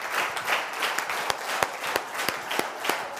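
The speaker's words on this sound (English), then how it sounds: "Let the claps go on." An audience applauds as a speaker comes on stage at a DXN marketing meeting, sustained steady clapping with sharper individual claps standing out, fairly close and filling the whole stretch without talk.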